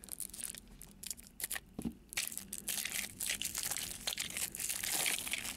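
Close crinkling and crunching of stiff plastic toy car packaging being cut with scissors, with irregular snips and rustles growing busier toward the end.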